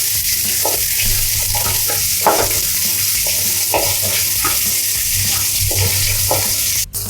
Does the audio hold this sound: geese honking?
no